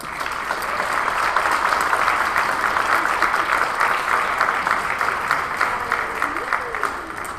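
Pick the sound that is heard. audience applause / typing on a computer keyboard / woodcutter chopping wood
audience applause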